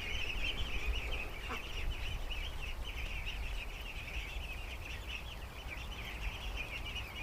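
A flock of ducks, some injured by snapping turtles, keeps up a steady, dense chorus of honking and quacking calls that runs without a break from start to finish.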